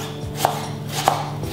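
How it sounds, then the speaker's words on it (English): An onion is chopped very small with a knife for Syrian fattet makdous: two distinct, fairly crisp blade strikes on a board, spaced well apart, against a steady low background hum. "So basically, we cut the onion."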